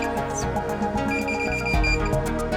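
A Minelab Pro Find 35 metal detector's target alert beeps in quick repeated pulses, bright and buzzy, close and loud, with no talking.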